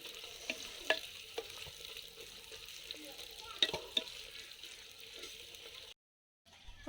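Green chillies and curry leaves fry in oil in a clay pot, giving a faint, close, steady sizzle. Soft stirring scrapes and clicks sound now and then before the sound cuts to silence.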